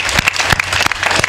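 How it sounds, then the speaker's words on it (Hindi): A crowd claps steadily and loudly, a dense burst of many hands applauding together. "आप लोग एक बार सम्मान में अपने तालियां बजा करके"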